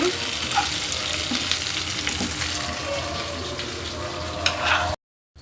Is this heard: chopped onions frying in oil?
yes